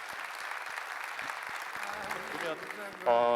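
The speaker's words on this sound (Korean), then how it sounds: "큰 박수 부탁드립니다" Audience applause at a book launch talk concert, steady crowd clapping throughout at moderate level, with a speaker's voice coming in over the tail end.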